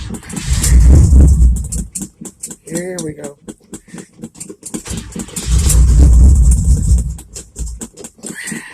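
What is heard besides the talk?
cold start of a 1978 Chevy C10 truck 307 engine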